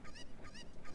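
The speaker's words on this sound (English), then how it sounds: "Pick up the fucking chicken, Link!" A cucco chicken in Zelda Ocarina of Time, three quick nasal honking clucks in a regular rhythm, fairly faint.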